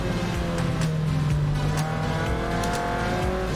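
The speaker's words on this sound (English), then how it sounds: "It's John Barrett's green, beautifully prepared BMW. Blasting past, Class A car, lovely." A green BMW Class A race car blasts past on the Silverstone track during a roadsports race, its engine note rising and falling loudly as it passes close by, heard from inside another race car with no talk.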